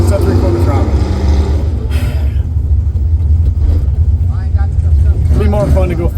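A car fitted with a homemade DIY throttle stop runs at full throttle with a loud, steady engine rumble, while someone talks over the noise throughout.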